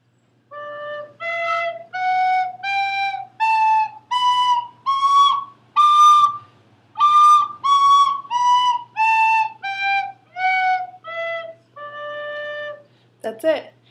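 Penny whistle playing a scale, fourteen clear, sustained notes climbing one by one to high D, sounding it twice, then stepping back down, close and alone, ending with a brief breathy burst.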